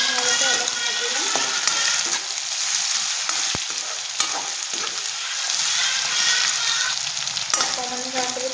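Crushed garlic and ginger paste fries in hot oil in a pan for a chicken dish, giving a continuous close sizzle with occasional stirring scrapes and sharp ticks.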